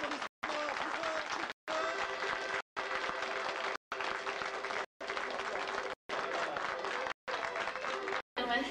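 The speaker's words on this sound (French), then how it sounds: "Et beaucoup d'applaudissements." An assembly at a pageant event in Pérouges, France, applauds in a sustained wash of clapping, broken by several short silences, with voices audible during it.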